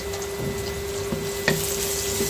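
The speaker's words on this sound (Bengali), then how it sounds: "প্রথমে পেঁয়াজটা একটু ভালোভাবে ভাজবো" Steady sizzling of onions frying in hot oil, with a few soft stirring clatters and a brief louder scrape partway through.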